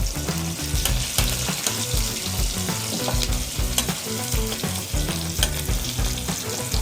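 Chopped onion sizzles and fries in hot oil in a kadhai while spices are roasted for a Maharashtrian Bhogichi mixed-vegetable dish, a steady close crackle with faint scraping stirs throughout.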